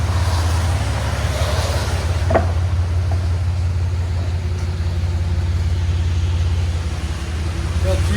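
A 1992 Chevy S10 pickup with a 4.3L V6 and Flowmaster Super 10 exhaust idles with a steady, deep rumble nearby, the exhaust note droning low and constant outdoors.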